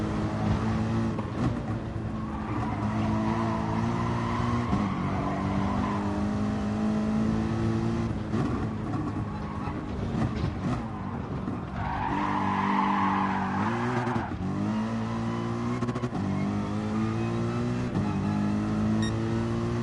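A race car in a sim racing game laps the Nurburgring with a steady, loud engine drone that rises and falls through gear changes, with tire squeal and skidding in the corners.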